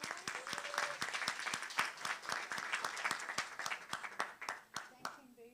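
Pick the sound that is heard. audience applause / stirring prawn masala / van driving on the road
audience applause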